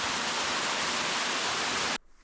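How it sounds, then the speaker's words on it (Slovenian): The finest waterfall on the Bijela stream, in a wild Dalmatian river valley, roars as a steady, loud, full rush of falling water that cuts off abruptly near the end. "To je pa najlepši slap na potoku Bijela."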